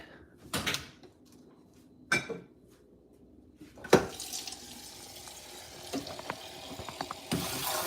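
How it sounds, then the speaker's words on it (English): Water running from a kitchen tap into a glass, a few sharp clunks and knocks at first, then a steady stream that swells and fills over several seconds. "Let me get some water real quick."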